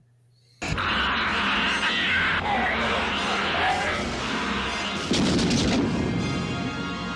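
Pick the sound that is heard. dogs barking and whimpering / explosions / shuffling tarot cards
explosions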